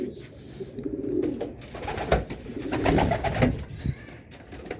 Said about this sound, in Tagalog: pagpag tayo tong siyam na ibon natin